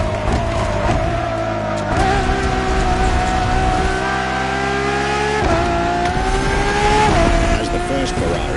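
Ferrari Enzo V12 revving in the video game The Crew Motorfest, a loud, sustained engine howl rising and dropping through gear changes, with a voice narrating over it.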